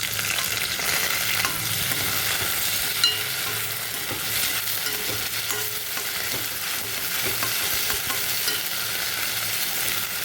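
Finely chopped large tomato frying in a pan for bread upma, a steady bright sizzle with soft scraping and stirring throughout and no talking.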